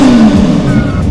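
A big motorcycle engine roars loud and close, revving hard with a steady throaty rumble that rises and falls slightly over a second, alone without talk.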